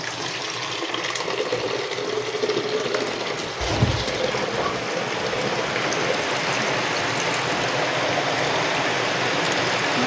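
Continuous heavy rush of rainwater pouring off a roof like a waterfall, a dense steady roar, with a brief low thump partway through.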